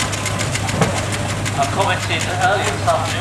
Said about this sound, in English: And a Fowler roller heading the way.